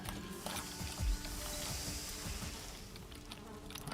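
Bees in a survival video game buzz in a faint, steady drone that stays even throughout, with no talking.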